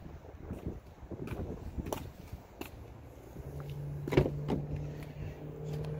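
A power window motor whirs with a steady low hum inside a 2019 RAM 1500 SLT Warlock pickup truck, over faint clicks and cabin noise.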